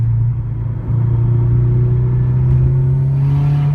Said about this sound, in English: if you're doing full throttle, well, you start to hear it start to kind of rasp up on you